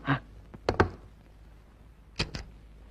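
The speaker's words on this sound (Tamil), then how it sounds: "யார் கதவு தட்டுறாங்க?" Knocks on a door in an apartment, heard as three short clusters: one sharp rap at the start, a quick double knock just before one second, then two more raps near the end, each crisp and loud against a quiet room.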